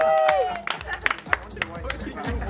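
Party guests at a sixteenth birthday celebration clap briefly amid lively chatter and cheering, with voices talking over the scattered claps.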